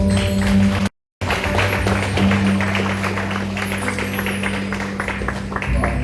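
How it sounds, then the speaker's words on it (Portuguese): A church congregation claps together in dense, fast applause over sustained organ or keyboard tones that hold steady beneath it, with a brief dropout near the start before the clapping carries on. "Vamos aplaudir forte você."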